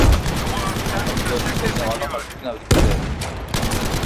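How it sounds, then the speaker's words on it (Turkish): Battlefield V gunfire on the Narvik map, aimed at an antenna, crackles as dense, rapid automatic bursts that fill the scene, with someone talking over the shooting. "Bir tane geri zekalı şu anteni vuruyor"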